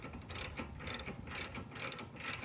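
A ratchet wrench tightening the front-end alignment on a Cub Cadet, quiet repeated clicking bursts in an even rhythm, close but soft, against low background noise.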